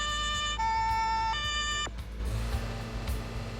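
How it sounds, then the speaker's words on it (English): A loud electronic siren holds a steady tone, then cuts off abruptly, leaving a low engine rumble. "I can tell you this one thing about that siren is annoying after a couple minutes."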